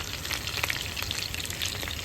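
Skinless longganisa sausages fry in their own rendered fat, giving a steady, close sizzle with small crackling pops and no voices.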